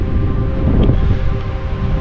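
Steady wind blowing on a cold mountain trail, a continuous low rumbling buffet across the microphone with no talking, loud and unbroken throughout.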